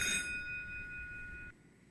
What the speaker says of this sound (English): That's the 5-minute bell